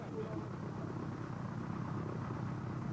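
Sikorsky HRS military helicopter carrying marines, a low, muffled rotor and engine rumble running steadily beneath a narrator's voice.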